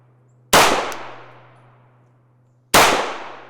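Two sharp, loud gunshots from a compact handgun firing Hornady 115 grain Critical Defense rounds, each with a fast crack and a long decaying echo, spaced about two seconds apart over a low steady hum.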